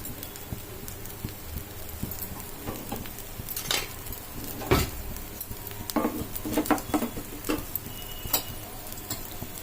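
Urad dal and chana dal drop into hot oil in a pan, giving a soft, steady sizzle with scattered sharp pops and spoon scrapes and clinks against the metal, close and otherwise quiet.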